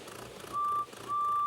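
Two steady electronic beeps of a vehicle horn in a Roblox train game, a short tone followed by a longer one, clear and fairly loud over a quiet background.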